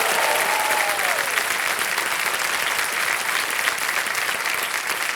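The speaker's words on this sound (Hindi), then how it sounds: "तालियां बजती रहें इनके लिए।" Sustained loud applause from a large television game-show studio audience, dense and steady throughout with a faint whistle early on.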